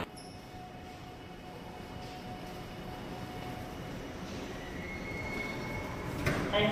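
A Suin-Bundang Line subway train rumbles at a station, its low roar growing steadily with a faint squeal of wheels and rising mechanical whine.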